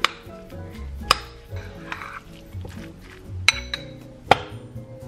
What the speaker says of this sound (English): but I just need to mix it.